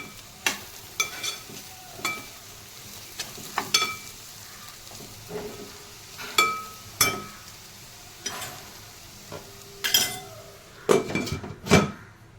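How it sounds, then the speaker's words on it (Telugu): A spoon stirs a village-style fenugreek seed curry in a pot, producing scattered scraping strokes and metallic clinks over a soft simmering sizzle, close and alone. "అన్నీ యాడ్ చేశాక ఒకసారి కలుపుకొని ఇంకో 10 minutes మనం కుక్ చేసుకోవాలి"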